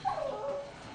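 A dog gives a single short, high whimper that slides downward and fades, faint and close, with no talking.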